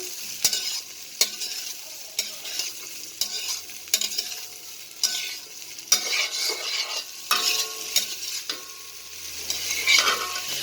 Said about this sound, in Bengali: স্বাদ মতো চিনিটা দিয়ে একটু নাড়াচাড়া করবেন